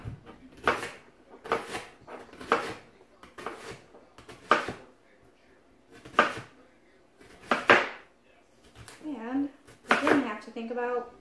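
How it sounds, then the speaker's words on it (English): A knife dices food on a cutting board in a home kitchen with a run of sharp, close chopping knocks in uneven bursts, and a person speaks briefly between the cuts. "I'm just about done dicing these up."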